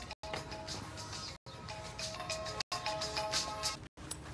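A phone rings with a repeating electronic tone through a scene in an Iranian feature film, the ring pattern broken by brief cuts of silence and sounding fairly close, with no talk over it.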